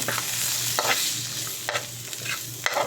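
Goat trotters cooking with chili powder are stirred, with repeated scraping strokes over a steady frying sizzle and a low background hum, heard up close without speech.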